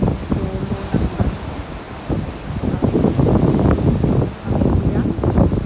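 Strong waves and wind at a rocky church beach in Bermuda, a steady loud roar of surf and gusting wind across the microphone, with brief dips between surges.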